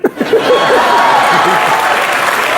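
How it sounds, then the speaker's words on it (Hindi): A short burst of applause from a crowd, steady clapping that starts abruptly and holds for a couple of seconds. "ठोको ताली।"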